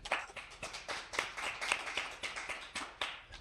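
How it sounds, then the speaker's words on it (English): A studio audience gives a short round of applause on a talk show, dense overlapping hand claps sustained for a few seconds at moderate distance, with no talking over it. "Round of applause."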